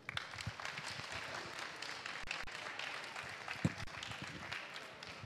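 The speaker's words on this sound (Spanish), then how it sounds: "un gran aplauso para él" A seated audience at an astronomy talk on the Herschel space observatory claps for the speaker, a fairly quiet, even spread of many hands with a few louder individual claps.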